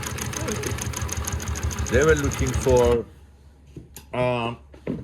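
Steady rapid mechanical chatter of a Consew P2339RBLH-18-1 double-needle long-arm sewing machine running for about three seconds, mixed with nearby talking, then stopping as the voice continues alone.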